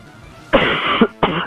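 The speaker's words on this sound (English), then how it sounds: "Sorry for the coughing, I'm a little bit sick." Two harsh, close coughs from a person who is a little sick: a long rasping burst, then a shorter one after a brief gap, with no talking.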